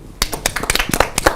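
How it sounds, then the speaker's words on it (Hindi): Crowd applause for Commonwealth Games 2022 medal winners, a brief burst of dense hand clapping, close and lively. "तालियां।"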